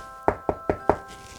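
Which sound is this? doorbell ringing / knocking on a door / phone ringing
knocking on a door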